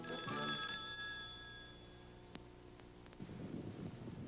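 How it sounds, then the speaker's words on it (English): Telephone bell ringing in a 1979 radio advertisement: a loud, bright ring with a rattling tone at the start that fades over the next second or so, followed by quiet hiss, a brief click and faint noise. "Pick up your phone and give them a ring."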